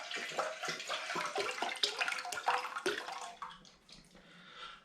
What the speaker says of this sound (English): So I've got my cranberry juice drink. I'm going to begin by putting this into my saucepan just here.